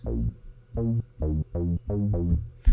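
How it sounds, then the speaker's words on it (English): Deep, warm, slightly woolly Korg Monologue synth bass notes play alone in a short rhythmic phrase, six or seven rounded, slightly muffled hits. "which is already a pretty nice, warm, a bit woolly, a bit dark, funky bass patch."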